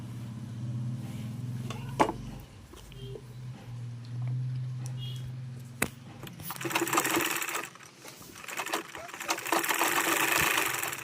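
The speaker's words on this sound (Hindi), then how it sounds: "डबल सिलाई दे दूँ।" An electric sewing machine stitches a katori blouse. A low motor hum runs at first, then fast, loud stitching takes over near the end, with brief voices in the background.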